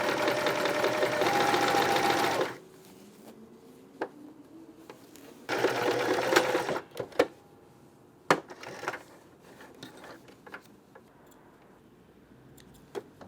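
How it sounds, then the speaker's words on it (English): A serger overlock machine stitches a hem on tailored clothing in two loud, steady whirring bursts, the first about two and a half seconds long and the second shorter, followed by quieter handling clicks and taps. "I'm serging with the right side showing, so that's the nice side with the serger that will show on the hem."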